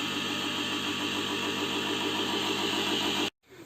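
Homemade circular saw driven by an old three-phase asynchronous motor on 220 V, a steady loud whirring hum with rhythmic vibration that runs continuously, then stops abruptly and briefly picks back up.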